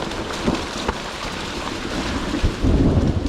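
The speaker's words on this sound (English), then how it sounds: "if you ever get the chance to ride in the thunderstorm, it is so much fun" Heavy rain with rumbling thunder and gusting wind noise buffeting the microphone during a ride through a thunderstorm, a steady loud wash with deeper rolls swelling toward the end.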